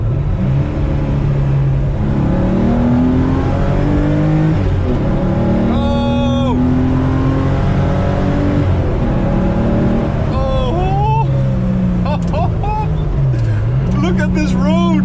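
A 1986 Porsche 911 Elmerhaus widebody driving, its engine droning and shifting pitch steadily under someone talking, loud and continuous from inside the car.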